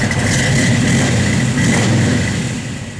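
A 1964 Ford Galaxie 500XL's V8 runs close by with a steady, deep, throbbing rumble and an even idle that holds throughout without voices.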